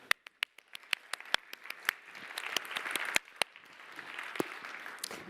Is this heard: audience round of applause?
yes